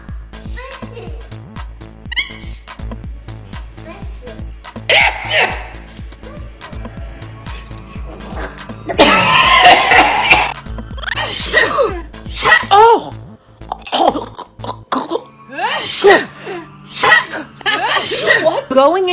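A person demonstrates a nose blow and a series of different sneezes, loud and close, some sharp and explosive, with chuckling and laughter scattered between them.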